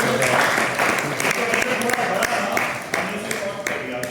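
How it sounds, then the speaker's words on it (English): Audience applause at a yoga talk as the expert is introduced, a dense steady wash of many hands clapping for the whole stretch at close range. "Let's clap for Khushboo"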